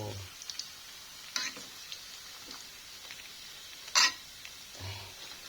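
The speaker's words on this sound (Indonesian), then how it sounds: "Baksonya aku goreng aja" Meatballs fry in a pan of oil with a low, steady sizzle, broken by a few sharp crackles and utensil clicks. No one speaks.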